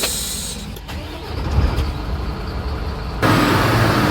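Bharat Benz truck engine running, a steady low rumble that grows louder and brighter near the end, with no talk over it.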